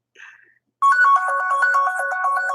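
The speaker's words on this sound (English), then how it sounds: "I'm not picking up the phone." A phone ringtone plays loudly and steadily, a bright repeating electronic melody starting after a faint brief sound and continuing without pause.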